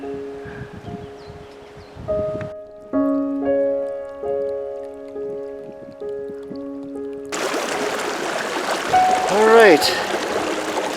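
A mountain stream near Nambe Lake in the Pecos Wilderness, close to the snowmelt source, rushes in as a loud, broad hiss in the last few seconds after quieter tonal sounds, with someone talking briefly.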